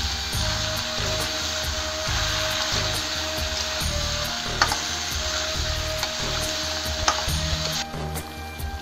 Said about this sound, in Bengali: এই লাউটা ভালো করে কষাই নেব।